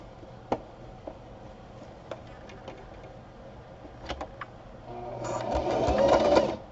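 Sewing machine stitching a face mask: a few isolated mechanical clicks and taps, then the motor runs up into a loud, fast whirring stitch burst near the end, close by and without speech.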